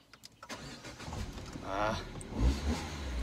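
Citroen DS3 1.6 VTI car engine starting up and rising into a rev, fairly close, with a brief exclamation from a voice at the start.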